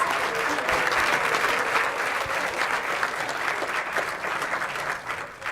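An audience claps steadily at the close of a youth climate action plan talk-out event, a dense, sustained round of applause that fades slightly toward the end.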